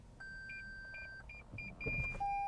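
Parking sensors on a 2019 Toyota Corolla give a run of short, evenly spaced electronic beeps over a low engine rumble, ending in a steady continuous tone as the car nears an obstacle.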